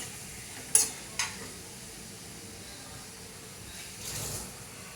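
Kurma masala frying in a pan, a soft steady sizzle with two sharp clinks of a spoon against the pan early on and a brief swell of scraping stir later, all fairly quiet with no talk.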